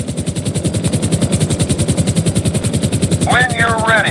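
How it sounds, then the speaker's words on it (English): Helicopter in GTA 5 Online hovering low over a moving trailer, a steady loud rotor thump pulsing rapidly throughout, with a brief voice-like warble rising near the end. "Bring the chopper down to just above the trailer."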